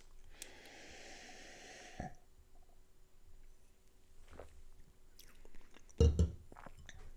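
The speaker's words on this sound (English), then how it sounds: "Oh, that was a good sip." A quick sip and swallow of beer, a Tree House Brewing Marshmallow Julius, close to the mic, followed by a soft satisfied exhale, with small handling clicks earlier in a quiet room.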